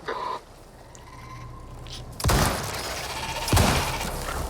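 Enemy gunfire in the survival video game Icarus, loud sharp bursts of shots in two distinct volleys with a rumbling tail, close and prominent over low ambience.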